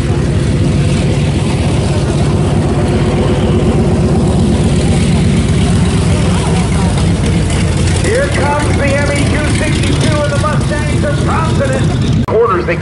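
Curtiss Helldiver SB-2C propeller aircraft at an air show, its engine droning loud and steady throughout, with a faint higher whine rising near the end.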